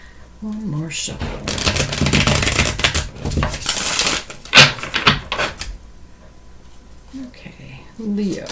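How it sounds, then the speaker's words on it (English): A deck of tarot cards is shuffled by hand in a few seconds of dense, rustling riffles and slaps, close up, with a voice speaking briefly before and after. "One more shuffle."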